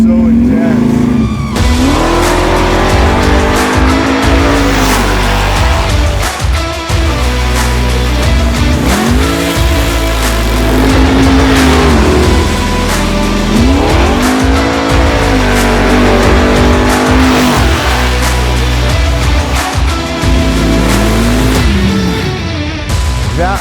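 An 800 hp supercharged big-block Camaro launches hard with squealing tires and a roaring engine, revving up repeatedly through several loud, close pulls with people talking over it.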